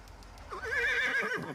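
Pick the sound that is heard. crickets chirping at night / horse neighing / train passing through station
horse neighing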